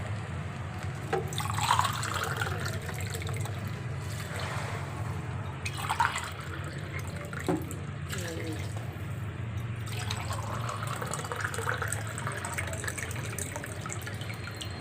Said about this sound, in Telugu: వాటర్ పోస్తాను